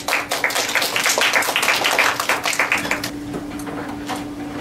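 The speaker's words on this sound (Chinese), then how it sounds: "那我们一起热烈掌声欢迎单老师" Audience applause welcoming a lecturer at a talk in a fairy-tale lecture series, a burst of dense clapping that thins into scattered claps before fading.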